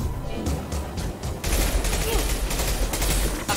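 Rapid gunfire in the sci-fi shooter Mass Effect 2, a dense, loud stream of shots that picks up and thickens partway through, with a voice faintly mixed in.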